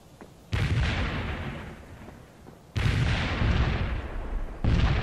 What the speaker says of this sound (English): Fire as soon as your launchers are ready